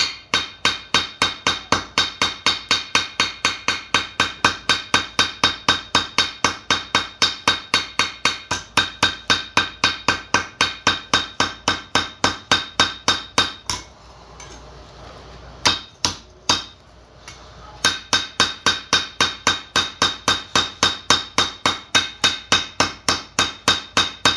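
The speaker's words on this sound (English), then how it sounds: "the more you tap, the more you hit it with the ball peen, it's just going to give it a lot more character" A ball peen hammer tapping a copper bracelet at close range, striking in a fast, steady rhythm of sharp metallic hits. The tapping stops briefly midway with a couple of isolated strikes, then picks up its even pace again.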